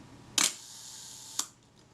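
A film Reflex S SLR camera under repair fires its shutter on a one-second setting: a sharp mechanical snap opens it, a faint whir holds for about a second, then a second softer click closes it, close and alone.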